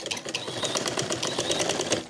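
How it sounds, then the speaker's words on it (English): A sewing machine stitches down the waistband of joggers in one steady, fast burst, a close rhythmic mechanical clatter of needle strokes running continuously throughout. "we'll start at the second point and we'll sew it down"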